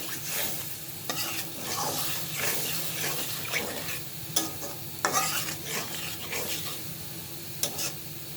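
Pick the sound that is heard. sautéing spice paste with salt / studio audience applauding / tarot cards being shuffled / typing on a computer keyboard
sautéing spice paste with salt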